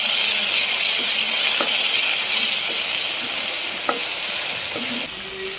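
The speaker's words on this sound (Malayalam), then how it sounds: "ചെറിയ ഉള്ളി 1 കപ്പ് ഇതുപോലെ അരിഞ്ഞെടുത്തത് ചേർത്ത് കൊടുക്കാം. നന്നായിട്ടൊന്ന് വഴറ്റി കൊടുക്കാം" Chopped small shallots sautéing in oil in a pan for Kerala bitter gourd theeyal, a steady close sizzle with a few soft scrapes of stirring, no talk.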